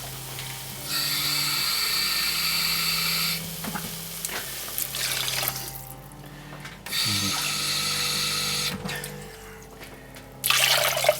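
Two cups of water pour into a pot of beef stock for a steak and mushroom pie filling, two long steady hissing pours with a pause between, close and loud.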